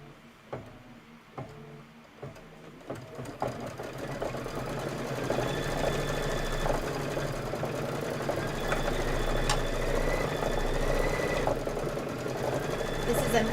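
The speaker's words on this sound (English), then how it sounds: "we're going to do the actual quilting stitch" A Kimberbell embroidery machine runs a quilting stitch on a hooped block, a steady fast mechanical chatter that starts after a few light clicks and then continues evenly and close, with faint talk in the background.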